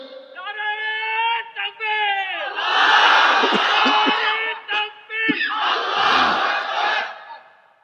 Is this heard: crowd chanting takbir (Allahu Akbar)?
yes